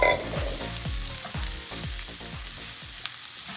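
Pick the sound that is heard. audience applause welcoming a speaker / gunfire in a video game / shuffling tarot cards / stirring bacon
stirring bacon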